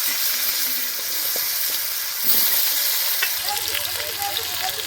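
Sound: washed potatoes frying in oil with mustard seeds and bay leaf

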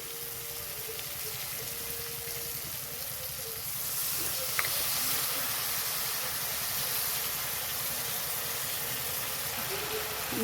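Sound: water poured into hot spices in pan, sizzling

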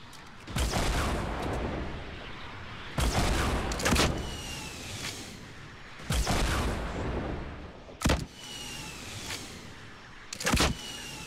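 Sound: RPG rocket fire and explosions in the video game Fortnite

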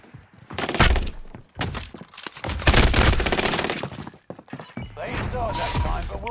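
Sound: gunfire in the video game Warzone

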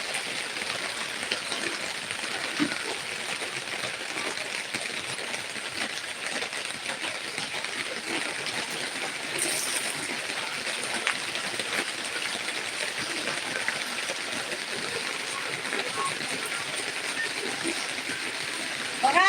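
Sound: rain falling outside

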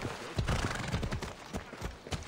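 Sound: horse neighing and hooves in video game Assassin's Creed Odyssey

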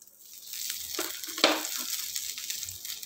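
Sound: mustard seeds, fenugreek and curry leaves frying in oil

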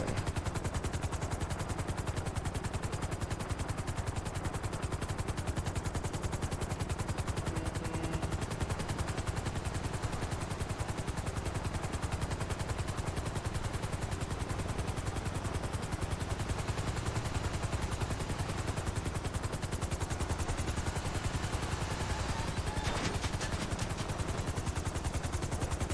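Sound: gunfire hitting a helicopter in the video game GTA Online

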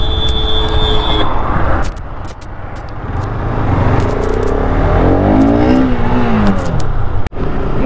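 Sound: motorbike engine revving as throttle is pulled

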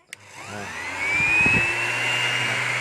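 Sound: DeWalt DWE6423 5-inch random orbit sander spinning at speed one

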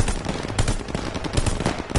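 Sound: machine gun fire at a half track in video game Call of Duty Vanguard

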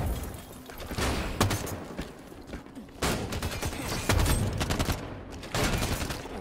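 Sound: gunfire in the video game Halo 5

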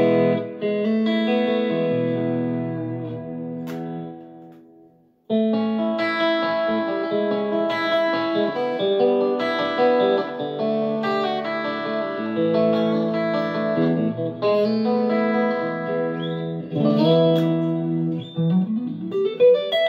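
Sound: electric guitar through Yamaha THR30ii amp with 4x12 cab

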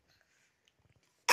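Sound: coughing

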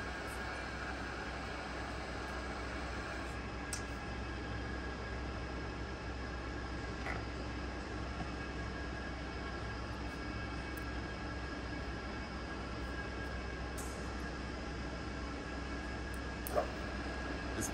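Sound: TOS FNK 25A vertical turret milling machine spindle running

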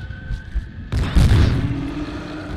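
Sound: shotgun fire in the video game Obscure

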